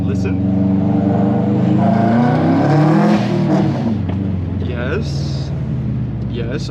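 A race car engine revs and drones steadily, its pitch sweeping up around the midpoint before settling back, loud and close throughout with a voice speaking over it.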